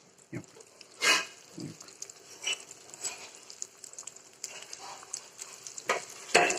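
Small pieces of bottle gourd and pumpkin vadi batter drop into very hot oil, giving a quiet, steady sizzle broken by occasional pops and light utensil clatter.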